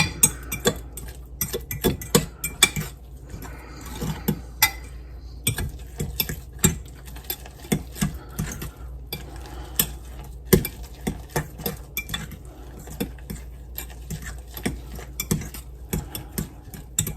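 A spoon works chaffle batter around a bowl, knocking and scraping against the sides in a steady, rapid run of close clicks and taps with no talking.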